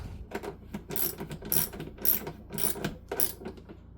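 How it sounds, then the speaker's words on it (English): A ratchet with a 13 mm socket clicks in quick bursts while snugging down battery terminals, a close, crisp series of metallic pawl clicks in uneven rhythm. "you want to make sure that you have a 13 millimeter socket or a 13 millimeter wrench so that you can snug those down."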